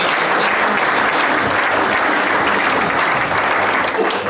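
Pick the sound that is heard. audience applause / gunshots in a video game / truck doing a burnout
audience applause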